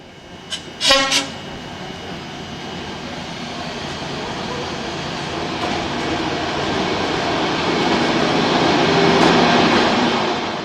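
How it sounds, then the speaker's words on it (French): Bulgarian express train 4641, running from Shumen in northern Bulgaria to Plovdiv, heard from on board as a steady rolling rumble that slowly grows louder, with a short horn-like tonal blast near the start. "Nous sommes maintenant dans l'express 4641 en provenance de Shumen au nord de la Bulgarie à destination de Plovdiv"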